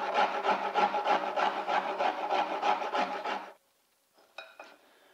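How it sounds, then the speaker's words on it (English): A hand rasp files away wood to shape a cutout for fitting a mosaic vanity, giving about a dozen quick rhythmic scraping strokes, close and clear, then a pause and a couple of faint knocks. "So I need to rasp a little bit more out of that area."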